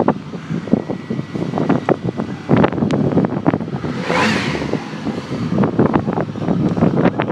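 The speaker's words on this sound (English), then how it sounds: "The wind's only blowing 7 miles an hour today." Wind buffets the microphone outdoors on a cold day beside an idling 2002 Pontiac Grand Prix GT, a steady rumbling roar with gusty swells throughout and no talk.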